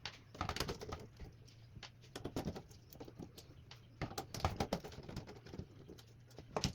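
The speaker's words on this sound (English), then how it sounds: "So the power supply is screwed in from the back here. So let's unscrew this." A screwdriver unscrews the power supply screws from the back of a Dell Vostro 3671 desktop, producing quiet clusters of clicks and light scraping taps close to the microphone, with no talking.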